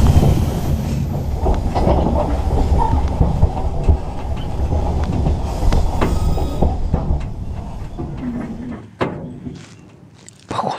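Freight train rolling into a station in Karelia, northern Russia, heard from aboard: a steady loud rumble of wagons with clicking wheels and faint squeals, easing off near the end with a brief clank.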